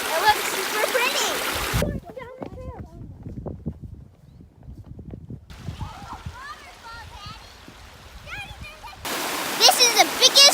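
A waterfall at North Table Mountain Reserve rushes and splashes steadily in the background, broken by louder bursts of close-miked noise, while voices talk over parts of it.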